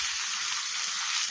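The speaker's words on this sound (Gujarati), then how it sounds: "ધાણા આ રીતે શેકાય છે તેનો ફ્લેવર બહુ સરસ આવે છે" Onion, garlic and coriander roasting in a pan give off a loud, close, steady sizzle, with a sharp clatter right at the end.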